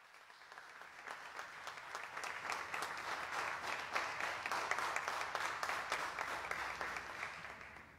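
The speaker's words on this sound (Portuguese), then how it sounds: "Uma salva de palmas para o Senhor Jesus, bem forte" A church congregation applauding loudly for Jesus, a sustained wash of many hands clapping, swelling slightly and holding steady throughout.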